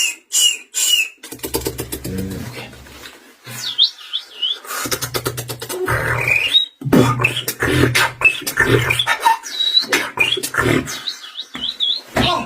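Rapid bird-like chirps and whistled tweets come in bursts among clicks and squeaks from an object used to mimic birdsong, close and loud, with many short rising calls.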